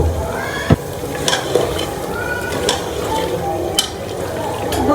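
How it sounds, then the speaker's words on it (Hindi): Meat browning in ghee for a beef Mughlai qorma fries with a constant sizzle, broken by a few sharp clinks and scrapes of a spoon against the pot, close by with no talk. "गोश्त को खूब अच्छी तरह भूनेंगे।"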